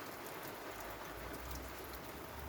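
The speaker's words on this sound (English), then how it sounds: "he says as the rain suddenly slows down" Steady rain falls outside at night during home moth trapping in September, a soft, even patter that continues without pause.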